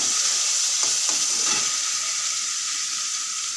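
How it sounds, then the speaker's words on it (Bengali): Spices sizzling and crackling in hot oil in a pan while being stirred for matar kachori, a steady near hiss with a few brief scraping stirs early on and no talk. "তেলের মধ্যে মশলাগুলো আছে, মশলাগুলো ছেড়ে দেবো অল্প করে। এই মশলাটাকে ভালো করে নাড়িয়ে দেবো।"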